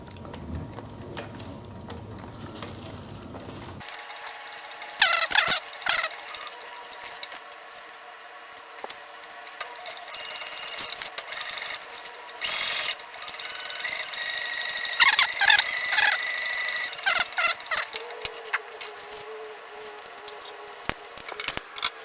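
Sewing machine back-stitching a large heavy-duty tote bag of ballistic nylon: after a brief low rumble, the motor runs with a busy mechanical whir and rapid needle ticking, pausing and restarting in short runs, close and fairly loud.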